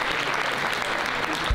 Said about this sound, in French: Un tonnerre d'applaudissements pour Emmanuel et son collègue